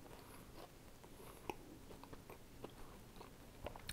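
Crunchy bites and chewing on DiGiorno hand tossed pizza crust, with a sharp crack near the start and several softer crunches spread through the rest, close and fairly quiet.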